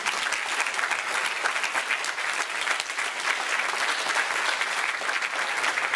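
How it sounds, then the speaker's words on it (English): A crowd at a mural unveiling in Victoria, BC applauds the students, dense continuous clapping that stays loud and even from start to finish. "big applause for the students"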